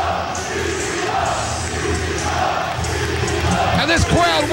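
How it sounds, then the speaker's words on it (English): A wrestling crowd at a CZW event chants loudly in rhythm, filling the arena, and a commentator's voice is heard over it. "he's welcome back to the CZW chant"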